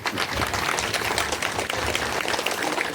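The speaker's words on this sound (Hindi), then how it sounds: "इनके लिए तो एक ताली बनती है भाई" Applause from the audience at an elderly honour ceremony in an old-age home, a steady dense wash of many hands clapping continuously and fairly loud, with no voices over it.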